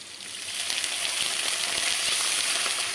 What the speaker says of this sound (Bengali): এই পেঁয়াজ আর রসুনটা একটু ভাজার পরে এই যে এইভাবে ভাজার পরে